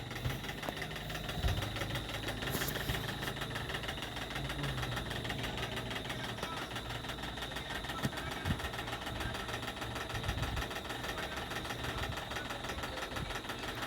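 A sewing machine runs steadily, stitching the sleeve of a princess-cut blouse with a half-inch margin, making a continuous mechanical whir with a faint rhythmic clatter throughout.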